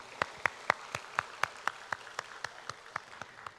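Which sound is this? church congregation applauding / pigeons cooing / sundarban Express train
church congregation applauding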